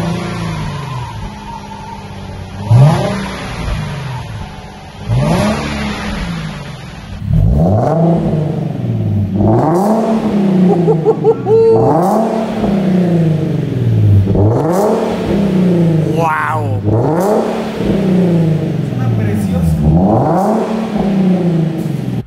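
A Nissan 370Z with a newly fitted exhaust idles and then takes a series of sharp throttle blips, each rev rising and falling in a regular rhythm, loud and close with no one talking.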